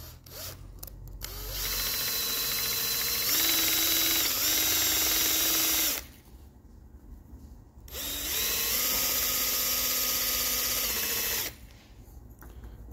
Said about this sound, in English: The best way to clean this screw is with the Acme driver tool with a drill. And so you can use a drill with a microfiber cloth like so.